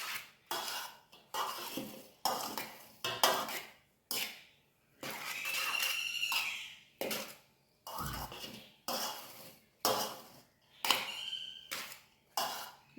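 A utensil stirs rice with tamarind masala in a metal vessel, making repeated scraping and clinking strokes in short bursts with brief pauses between them, fairly close and moderately loud.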